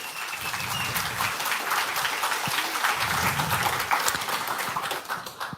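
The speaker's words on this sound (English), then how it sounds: "have a big round of applause for those people" A crowd at an AI accelerator demo day breaks into sustained applause, dense, even clapping that holds steady for several seconds and then tapers off, filling the hall without talk.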